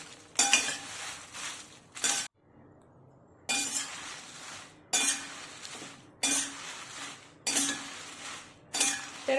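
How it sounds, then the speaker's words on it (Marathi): Chillies roast in oil in a pan during black masala preparation. Repeated loud bursts of sizzling and scraping clatter come with each stir, separated by short quiet gaps and one longer pause. "ही पण मिरची आपल्याला मस्त अशी भाजून घ्यायची आहे"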